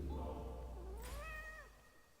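A cat gives a single rising, drawn-out meow over a low background hum, with no talk.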